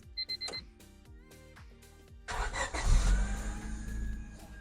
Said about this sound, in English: now we're in the car, and we are just going to start it up